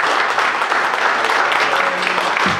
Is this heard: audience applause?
yes